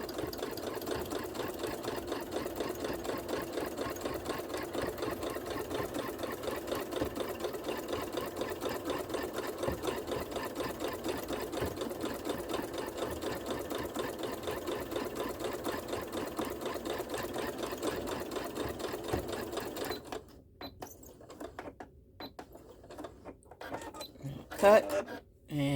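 A sewing machine stitching an oven mitt runs in a steady, fast mechanical whir for about twenty seconds, then stops, leaving faint handling clicks and rustles near the end.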